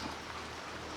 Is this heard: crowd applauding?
no